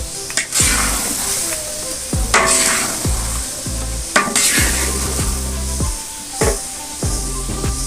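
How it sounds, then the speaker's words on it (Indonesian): Jackfruit rendang cooking in a pan, stirred with repeated scraping strokes over a steady loud sizzle and bubbling, with irregular clanks of the utensil against the pan. "Kemudian diaduk-aduk terus sampai menjadi rendang."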